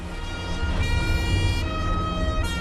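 Police car sirens in 1984 Palermo echo through city streets, a loud, sustained wailing tone with shifting pitch over a constant traffic rumble and no voices.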